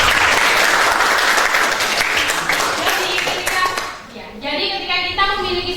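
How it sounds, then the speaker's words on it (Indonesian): A classroom of students bursts into dense, loud applause for a classmate, a steady rush of many hands clapping that fades after a few seconds as a teacher starts talking. "Tepuk tangan untuk Nisa"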